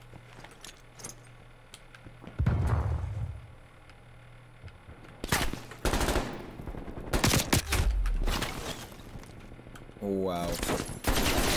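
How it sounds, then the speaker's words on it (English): Video game gunfire from an enemy shooting through a wall, sharp loud bursts of shots in separate clusters with quieter gaps, close and punchy; a player briefly exclaims. "He literally wallbanged me because he knew I'm gonna be there."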